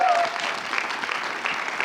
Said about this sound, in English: So can we give all of our contestants one more round of applause?